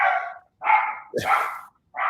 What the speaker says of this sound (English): we have some dogs barking, right?